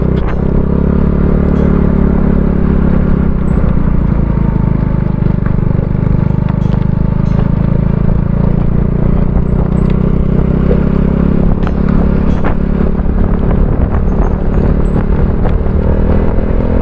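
A motorcycle ridden on a road at around 70, with its engine droning loud and steady throughout, along with wind rush and faint rattles.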